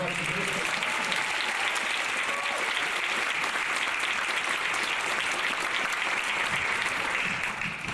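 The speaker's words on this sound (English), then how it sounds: "let's have one more round of applause for our wonderful Northwestern" Steady, dense audience applause fills a middle school winter concert hall at Northwestern Regional #7, a continuous wash of many hands clapping at even loudness from start to finish.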